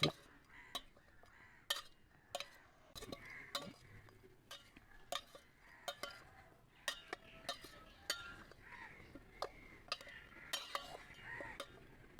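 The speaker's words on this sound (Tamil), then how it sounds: "உப்பையும் மஞ்சளையும் போட்டு பிரட்டுறேன் நான்" Soft stirring and mixing of tilapia fish with salt and turmeric, with frequent light clinks of a utensil against a bowl, irregular and close, fairly quiet.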